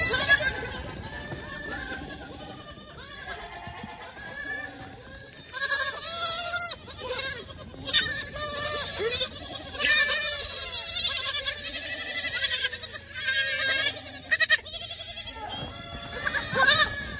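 Goat kids bleat repeatedly in high, wavering calls, several overlapping at close range and growing louder and busier in the second half, with a faint voice underneath.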